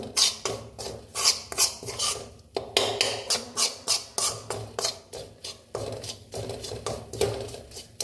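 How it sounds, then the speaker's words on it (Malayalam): Ginger curry mixture scrapes around a pan under a spatula in fast, even strokes, a rhythmic, close scratching that keeps going without pause. "ഇതൊരു പച്ചമണമൊന്ന് മാറുന്നവരെ ഇളക്കി കൊടുക്കാം"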